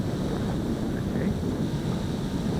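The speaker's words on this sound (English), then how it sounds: "This is the wind, folks." Wind rushes across an outdoor microphone in a steady, low buffeting roar, moderately loud throughout the short stretch, with faint tonal whines from a small camera drone briefly audible beneath it.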